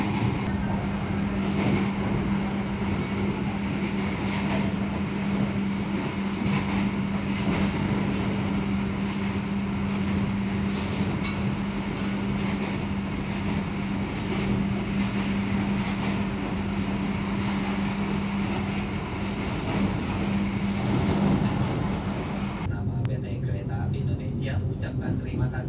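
Executive-class passenger train in Indonesia rolling along the rails, heard from inside the carriage: a steady low rumble and hum with a constant drone, fairly loud throughout, the tone shifting near the end.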